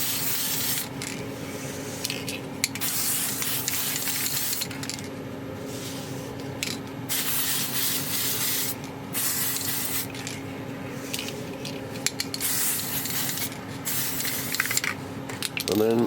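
An aerosol spray can lays a second coat of paint on parts of a steampunk motorised Kraken gauge model kit: a steady close hiss in long bursts, broken by a few short pauses.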